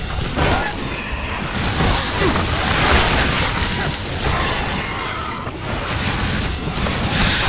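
A cart blows up after being shot in the video game Shadow Warrior, a loud, dense roaring blast and crashing debris that fill the whole stretch continuously without a break.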